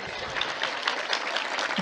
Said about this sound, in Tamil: கைத்தட்டல் எல்லா திருநெல்வேலி அம்மாக்களுக்கும் சமர்ப்பணம்